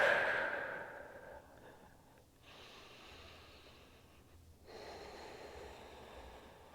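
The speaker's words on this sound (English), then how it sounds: "Handful of really deep, steady breaths here." Slow, deep breaths taken while holding a hip and knee mobility stretch, a strong exhale at the start followed by quieter steady inhales and exhales, close and soft.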